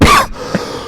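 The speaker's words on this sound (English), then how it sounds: "Now you're coughing in the mic." A person coughs close into a microphone, one loud, harsh burst followed by a softer, brief throat sound, with no talking around it.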